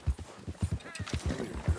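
Horse hooves clip-clop in a video game, a quick, even run of close thuds at a walking-to-trotting pace, with no talking over them.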